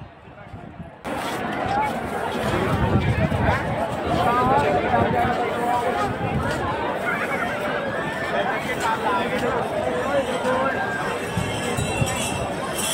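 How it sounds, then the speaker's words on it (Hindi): A large crowd at Haridwar makes a steady babble of many voices, with footsteps and the odd clink mixed in, loud and close, rising and going on unbroken after a quiet start. "तो ये देखिए कितनी भीड़ है"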